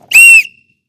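A PE teacher gives one short, piercing blast on a whistle, loud and close, with a faint ring trailing off after it.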